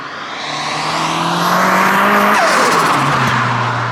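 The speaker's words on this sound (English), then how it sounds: "Oh my god, that turbo comes in so hard." Ford Escort Mk6 with a swapped-in Focus RS turbo engine accelerating hard through the gears, a loud rising engine roar heard from inside with pitch sweeps as it shifts.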